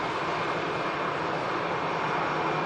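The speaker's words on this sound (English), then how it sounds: "EasyJet arrival just taxiing by." An EasyJet airliner taxis past at Manchester Airport, its engines giving a steady, even roar with broadband rumble that holds constant and close throughout, with no voices over it.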